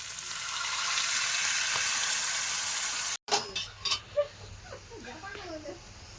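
Meat browning in a pan sizzles steadily and loudly, then cuts out sharply as water is poured in, leaving softer bubbling, a few utensil clinks and scattered speech-like sounds.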